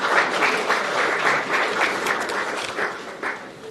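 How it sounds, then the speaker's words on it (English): Applause from an audience at an election observers' briefing in a Nairobi hotel, a steady wash of many hands clapping that holds for a few seconds before easing slightly. "One more round of applause, please."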